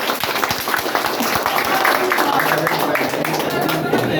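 An audience at a gathering for the South Nias police chief claps in a dense burst of applause, with crowd voices mixed in throughout.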